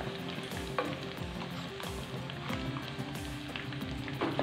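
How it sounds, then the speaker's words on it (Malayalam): Chopped shallots and green chillies fry in a pan for a Kerala fish curry, a steady close sizzle with repeated rhythmic stirring strokes scraping through it, fairly quiet and with no talking. "പിന്നെ നമുക്കിതിലോട്ട് അരിഞ്ഞു വെച്ചിരുന്ന ചെറിയ ഉള്ളി ഇട്ട് കൊടുക്കാം."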